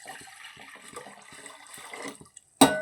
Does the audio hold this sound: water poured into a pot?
yes